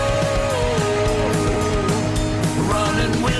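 A rock song by Alice Cooper from the new album The Revenge of Alice Cooper plays loud and dense with guitars and drums, a continuous full-band passage with no talking.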